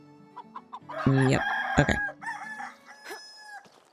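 Chickens cluck and a rooster crows loudly in the Medieval Dynasty video game, layered calls rising and falling over a few seconds with brief spoken words.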